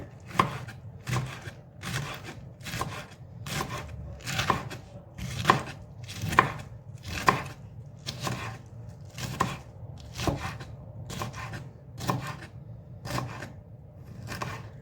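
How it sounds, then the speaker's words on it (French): A knife chops a cabbage core into small pieces on a board in a steady run of sharp, evenly spaced strokes, close and clear, with no talking. "ceux-là, on va les couper en tout petits morceaux"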